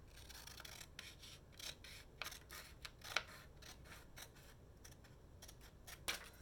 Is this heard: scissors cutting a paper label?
yes